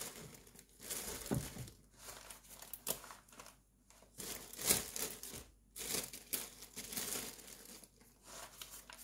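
Paper and plastic bags crinkle and rustle in close, irregular bursts while goods such as vegetables and chillies are wrapped and packed for long-distance shipping, quiet handling with short pauses between crumples.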